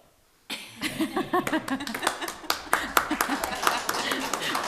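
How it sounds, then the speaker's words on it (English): Golf clap applause from a small group at a planning board meeting, a soft scattered patter of hands with a few chuckles and murmurs mixed in, steady after a quiet start. "Golf clap"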